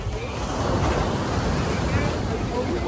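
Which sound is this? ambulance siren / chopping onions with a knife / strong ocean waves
strong ocean waves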